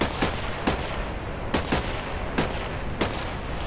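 Pistol gunshots from a video game guns mod, several sharp cracks fired at irregular intervals over a steady background hiss, with no talking.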